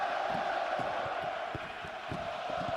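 Hockey arena crowd roaring and cheering after a brawl between the Canadiens and Capitals players, a dense, steady wash of many voices with scattered shouts rising above it throughout.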